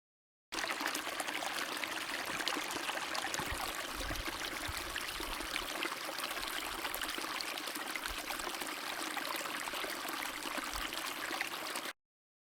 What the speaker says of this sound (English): the sounds he heard were just those of the river running swiftly under the